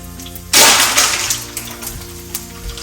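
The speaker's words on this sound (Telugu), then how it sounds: "ఫస్ట్ ఆయిల్ వేడయ్యాక అందులో ఆవాలు జీలకర్ర యాడ్ చేసుకుని అవి కొంచెం చిట్పట అయ్యే వరకు మనం ఫ్రై చేసుకోవాలి" Mustard seeds and cumin hit hot oil with a sudden loud burst of sizzling. The sound quickly settles into a fading crackle with scattered small pops.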